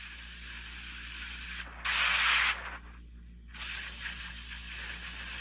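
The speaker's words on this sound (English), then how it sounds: "Also the holes, obviously, burn those out with a hand torch" An oxy-acetylene hand torch with a double-aught tip, oxygen at 40 psi and acetylene at 7, cuts holes in oil field pipe: a loud, steady roaring hiss with a brief harsher surge and a short dip partway through.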